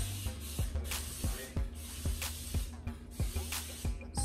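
A handheld spray bottle spritzes water onto natural hair, about eight sharp hissing bursts in a quick, fairly even rhythm, close and clear with no talking.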